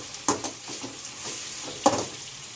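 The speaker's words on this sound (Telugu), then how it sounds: "ఇప్పుడు మళ్ళీ ఒకసారి మిక్స్ చేసుకోండి." Tomato puree is stirred into frying onions in a pan, with a low sizzle under a few scraping spoon strokes and two sharper clinks against the pan.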